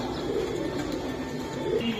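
Racer pigeons kept for sale give a continuous, overlapping low cooing, close and steady with a few slightly louder swells near the end.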